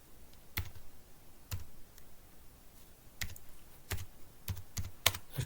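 Computer keyboard typing HTML code: sparse, quiet individual key clicks in irregular bursts, some strikes sharper than others, with no voice over them.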